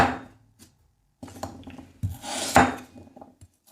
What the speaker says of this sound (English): Just cut it like this into small pieces.